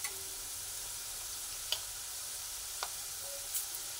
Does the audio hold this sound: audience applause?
no